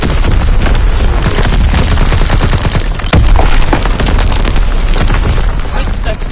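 Heavy artillery booms from a primary battery in Call of Duty WWII, loud and continuous, mixed with gunfire and battle noise, and a voice speaks briefly over the din.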